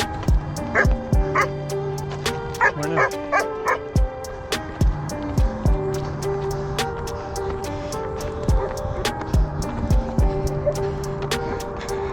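Dogs barking on Monserrate Mountain trail, repeated loud sharp barks and yips close by in irregular bursts, with some whimpering between them and a faint car in the background.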